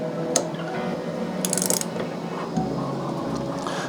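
Bicycle stem bolts being tightened to torque in a crisscross pattern, a close series of short metallic ratcheting clicks and taps from the tool, with a couple of sharper clinks.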